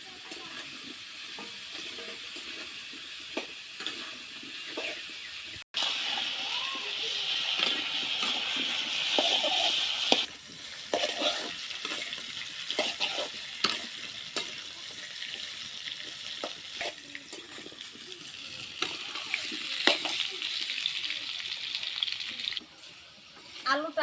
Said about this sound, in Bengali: আলুটা নাড়াচাড়া করে আমি ভেজে নেব।